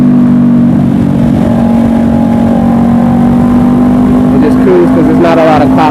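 A 2020 Honda CBR500R motorcycle cruises along a quiet road early on a Sunday, its steady engine drone and wind rush continuous and loud throughout, with a slight change in tone near the end.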